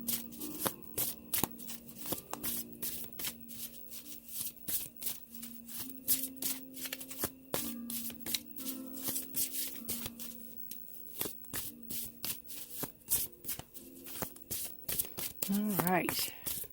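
Tarot cards are shuffled by hand in repeated crisp riffling bursts, close and fairly quiet, ending in a brief flurry of card noise.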